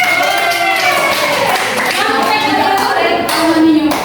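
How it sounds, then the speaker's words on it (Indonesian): A classroom audience claps hands during a public speaking session, a dense, steady patter of clapping lasting several seconds with voices calling out over it. "tepuk tangan untuk violin"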